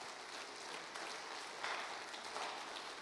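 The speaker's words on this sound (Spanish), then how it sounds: "vamos a recibirlo, ¿verdad?, con un fuerte aplauso a nuestro hermano Alejandro Salazar" Steady applause from a gathered congregation welcoming a brother to speak, a dense even wash of clapping heard from a distance, fairly faint.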